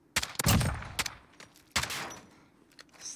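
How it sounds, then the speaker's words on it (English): Several separate gunshots in Call of Duty: Modern Warfare, sharp close cracks with short decaying echoes, irregularly spaced, the loudest near the start and another about midway. "I didn't even need to shoot those last two bullets"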